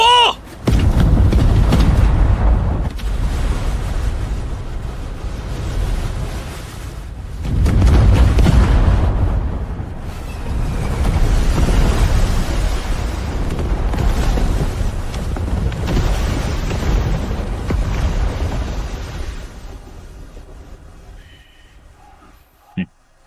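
Animated naval battle with a fleet firing cannons, heavy booms and explosions rolling loudly and almost continuously in waves, with voices over the barrage.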